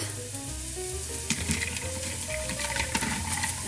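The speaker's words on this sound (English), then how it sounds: "I've got my onions going over here. I'm gonna let them cook down just another minute or so" Onions cooking down in a hot pan give a steady, close sizzle with occasional stirring clinks against the pan, heard on their own with no talk.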